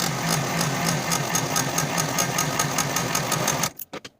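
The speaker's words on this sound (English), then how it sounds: "I'm going to be using my serger." A serger runs in a fast, even mechanical chatter while finishing fabric edges, loud and close, then stops abruptly with a few quiet clicks at the end.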